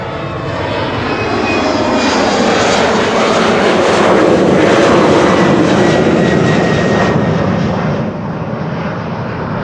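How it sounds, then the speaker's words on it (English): An Embraer 190 jet taking off from the Amsterdam Polderbaan runway produces a loud, sustained engine roar that swells to a peak mid-way and then slowly fades, with no talking over it. "KLM flight 1763 to Bremen, another Embraer 190, German Airways, with the new tail"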